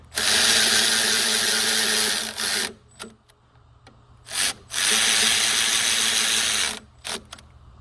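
A power ratchet or driver runs bolts down on the alternator of an OBS 7.3 Powerstroke diesel, with loud, close whirring bursts of a few seconds each, separated by short pauses and quiet clicks.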